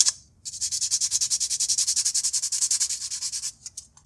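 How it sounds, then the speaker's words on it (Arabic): Very light hand sanding of a wood piece being prepared for gluing, a quick rhythmic back-and-forth rasp of even strokes, close and fairly soft, heard alone without talk. "صنفرة خفيفة جدا جدا"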